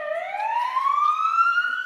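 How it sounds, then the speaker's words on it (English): An ambulance siren wailing in a single rising sweep, loud and close, with no voices over it. "I woke up after hearing the sirens of the ambulance stop in front of my house."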